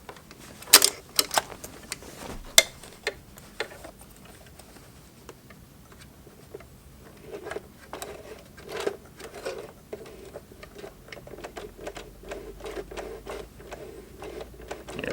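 A Singer Heavy Duty sewing machine stitches a jeans hem, its needle deflecting against thick denim, giving uneven bursts of sharp mechanical ticking and thumping with pauses between runs.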